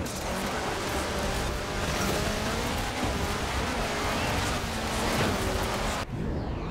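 A Subaru race car on asphalt in Forza Horizon 4, with a loud continuous engine drone and tyre roar throughout, cutting off abruptly near the end.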